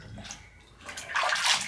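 Water sloshing and splashing during a baby's bath, starting soft and swelling into brighter splashes toward the end, close and fairly quiet.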